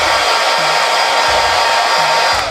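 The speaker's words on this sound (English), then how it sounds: "use the old hair dryer and speed up the drying process" A hair dryer blows steadily to dry acrylic paint laid down through stencils, a loud, continuous close-up whoosh with slight wavering in its low hum and no talking.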